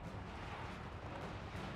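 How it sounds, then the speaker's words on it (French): Cannons in Total War: Warhammer 3 firing during a battle, a dense, continuous rumble of booms and crashes with no clear gaps, at a steady moderate level. "les canons, ils tirent un petit peu dans le tas"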